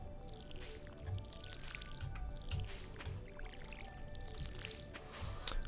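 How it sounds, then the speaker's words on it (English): Water trickles and drips softly from a watering can onto crops in the farming game Stardew Valley, a faint, steady pouring with small splashy drips throughout and no talk. "But we do need to water everything before we..."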